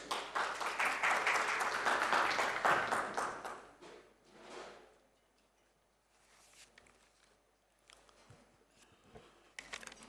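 A round of applause from an event audience, fairly faint and distant, swelling briefly over the first few seconds and then dying away into scattered claps and near quiet.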